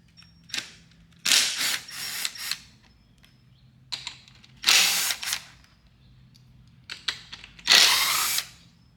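A power tool spins out the 8mm bolts holding the airbox to the frame of a 2024+ Yamaha YZ250F, heard as several short, close, loud whirring bursts separated by pauses, with no talking.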